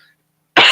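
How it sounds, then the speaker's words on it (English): After near silence, one loud, abrupt cough bursts out close to the microphone and runs to the end. "I might have to take a coughing break here in a second"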